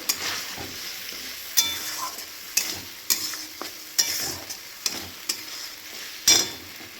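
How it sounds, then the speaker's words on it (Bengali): Spoon stirring banana flower curry in an oily pan, steady sizzle under repeated sharp scraping knocks roughly every half second, close and clear. "দিয়ে এটা ভালো করে নাড়বো"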